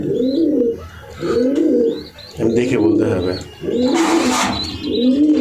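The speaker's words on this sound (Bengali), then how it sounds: "এখানে এক জোড়া কবুতর আছে" Racing pigeons coo in repeated soft, throaty phrases close by. A person briefly speaks between the calls.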